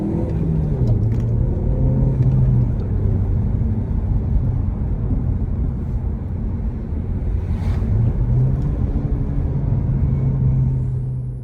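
A Rover 75 saloon drives along with a steady, loud low engine drone and road rumble, the pitch shifting a little as it changes speed, with no talk.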